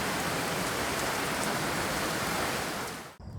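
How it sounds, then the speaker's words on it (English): Heavy rain pours steadily onto metal siding of a chicken and duck coop, a dense unbroken hiss that holds loud for three seconds before cutting off abruptly. "Well, that's a lot of rain."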